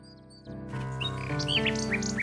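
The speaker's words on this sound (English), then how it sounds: "The little bird makes a delivery." A nightingale chirps repeatedly in King's Quest VI, bright short bird calls over a steady background of game music.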